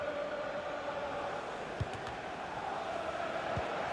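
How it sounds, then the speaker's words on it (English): Steady stadium crowd roar in the FC 24 football game, Chelsea vs Manchester City in the Premier League, a continuous wash of massed voices urging on an attack, with a couple of faint thuds from play. "The crowd urging him to shoot."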